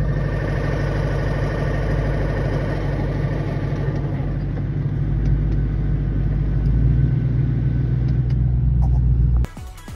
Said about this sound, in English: It was kind of just like a rattling.